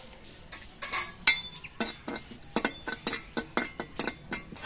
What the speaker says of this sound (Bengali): আমি এক চামচ গোটা জিরে শুকনো কড়াইতে দিয়ে ভেজে নিচ্ছি